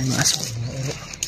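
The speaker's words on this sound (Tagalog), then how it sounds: "May mga aso ha." A dog whines and yips close by while a person talks over it.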